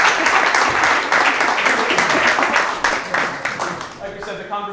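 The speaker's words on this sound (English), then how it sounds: "Can we give Francis a round of applause?" An audience claps at the end of a talk session, steady applause running throughout, with some voices mixed in and the clapping thinning slightly toward the end.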